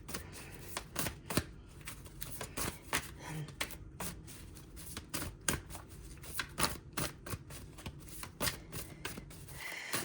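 Tarot cards are shuffled repeatedly with rapid riffling and soft slapping, an irregular crisp flutter close up, continuing throughout.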